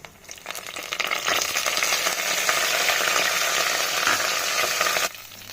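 Spices and curry leaves sizzle hard in hot oil, a loud, continuous hiss that swells up fast, holds for several seconds, then cuts off abruptly.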